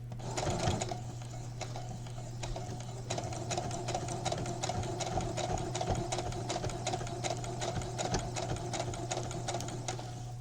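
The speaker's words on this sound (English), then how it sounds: "I'm going to go real slow because knit does not like to sew this way." A sewing machine runs slowly along the bottom edge of a knit towel topper, a steady close mechanical whir with rapid needle ticks that carries on with only brief pauses.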